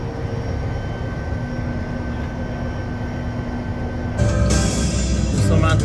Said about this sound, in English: Le jet va arriver à Miami dans quelques minutes. Là, on est vraiment en train de descendre.